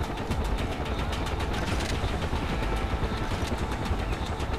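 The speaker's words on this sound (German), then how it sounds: "Okay, Hubschrauber, Hubschrauber." Helicopter in the video game Far Cry 4, a steady, dense rotor-and-engine drone that stays loud and constant throughout, with no talk over it.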